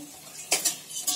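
Fried okra is lifted out of a pan with a metal utensil, giving a few sharp clinks and scrapes against the pan over a faint background sizzle.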